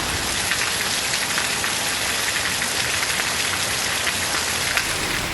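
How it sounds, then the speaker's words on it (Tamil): A sudden moderate rain over Erode in Tamil Nadu, a dense, even hiss of drops striking surfaces, steady and fairly loud for the whole stretch with no voices. "திடீரென மிதமான மழை பெய்தது"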